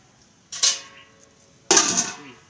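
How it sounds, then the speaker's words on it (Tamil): A metal lid set down on a pot of boiling vegetables gives two sharp clanks about a second apart, each ringing briefly and fading, heard close and alone. "இந்த மூடி வச்சிடறேன்"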